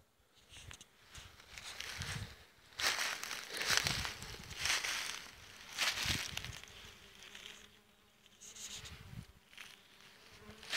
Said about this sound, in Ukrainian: І джмелі також літають.